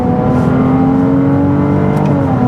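A Ferrari 296 rated at 830 hp pulls hard on a de-restricted stretch of Autobahn, its engine droning loud and steady with a rising tone, heard close from inside the car.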